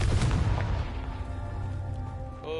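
A Confringo fire spell explodes in Hogwarts Legacy with a deep, close boom and crackling burst, then rumbles and fades into game ambience with a brief tonal chime at the end.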